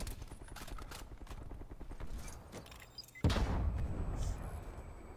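FFAR assault rifle firing in Call of Duty: Black Ops Cold War, a fast rapid-fire rattle of shots for about three seconds, then a sudden loud boom and rumbling aftermath.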